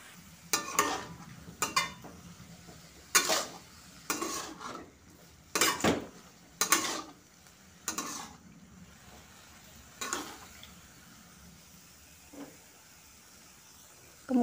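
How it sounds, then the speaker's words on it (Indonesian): A utensil scraping and clinking against a pan in irregular strokes as bean sprouts and yellow tofu are stir-fried, with a faint sizzle underneath and no talking. "Aduk-aduk kembali."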